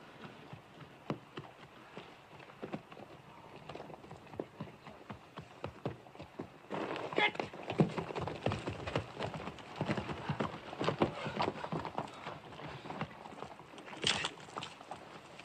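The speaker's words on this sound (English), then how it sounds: "Get them horses under cover." Several horses' hooves clop on the ground in an outdoor western scene, faint irregular beats at first that grow louder and busier partway through.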